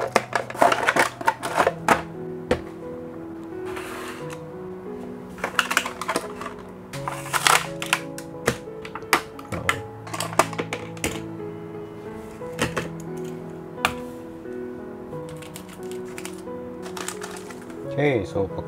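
A Bakugan Evolutions toy box is opened by hand, with close, irregular crinkling, tearing and tapping of cardboard and plastic packaging throughout, and a person talking at times.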